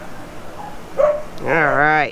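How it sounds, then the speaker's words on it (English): A dog in a neighbouring RV gives a short bark followed by a drawn-out whining yowl, fairly close, as someone says a word just before. "We're sorry for the dog barking in the rig next to us."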